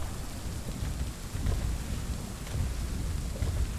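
Heavy rain pours in the video game Rime, a dense steady hiss with low rumbling swells like distant thunder, continuous and fairly close, with no voices.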